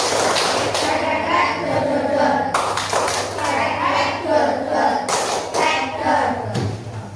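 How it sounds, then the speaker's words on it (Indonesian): Schoolchildren in a classroom clap a counted rhythm pattern in groups of beats, close and loud, with bursts of claps separated by short pauses and children's voices talking and calling out between them. "Tepuk 3, 2, 1"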